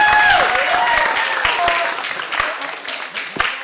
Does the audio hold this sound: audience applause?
yes